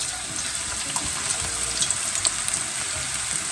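Cabbage pakora batter goes into hot oil for deep frying, giving a steady, close hiss of bright sizzling crackle with no voices.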